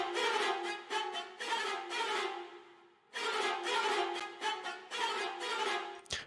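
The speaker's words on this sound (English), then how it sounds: "the tonal patches on their own sound like this." Tonal string patches from the Nucleus orchestral library play on their own, sustained bowed chords swelling and pausing in phrases with a brief gap mid-passage, rich and full with no talk.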